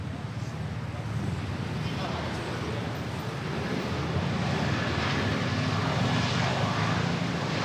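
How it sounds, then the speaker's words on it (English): A Philippine Airlines Airbus A321 arrives at Manila airport, its engines producing a broad, steady roar that swells slightly as it approaches, heard from a distance with faint background noise. "Philippine Airlines. A321 arriving from Tokyo Narita."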